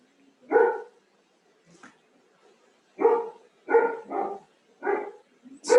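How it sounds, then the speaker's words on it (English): A dog barks in scattered bursts, about six sharp, fairly close barks with short pauses between them, against an otherwise quiet background. "mental resistance to the dog barking"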